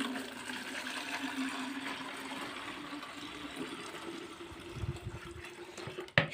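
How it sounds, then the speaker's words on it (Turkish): Pulpy homemade grape vinegar pouring out for straining, a steady close liquid rush that runs several seconds and ends with a brief clatter, with no talking. "bu posalı olanı dökeceğim."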